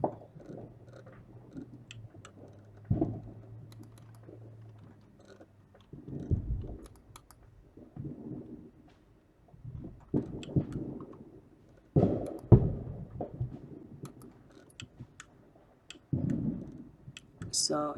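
Computer mouse clicking on a desk, scattered quick clicks in small clusters under a person talking nearby, faint to moderate and close.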